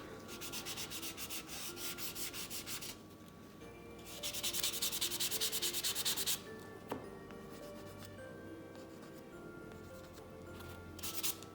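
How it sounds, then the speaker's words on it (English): Repeated rough scraping of a sanding block roughing up paint on a painted surface, in steady back-and-forth bursts with short pauses, close and fairly loud, no talking. "I'm going to be taking a little bit of a sander, just a sanding block, and kind of sand just a little bit"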